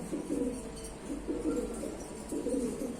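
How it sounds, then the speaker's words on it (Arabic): Brooding pigeons sitting on eggs in a loft coo in low, soft, repeated rolling phrases, close and fairly steady, with light background noise and no speech. "حمام حضان اهو"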